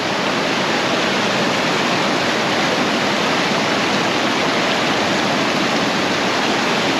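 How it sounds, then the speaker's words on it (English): Water pours over rocks and man-made stonework among the ruins of a Civil War-era factory, a dense, steady rushing roar close by with no pauses. "See, look at the how the water's flowing over this rock here."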